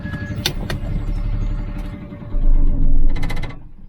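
Truck engine being switched off: a loud idling rumble that surges briefly, then winds down, with a few mechanical clicks and a short beeping chime near the end.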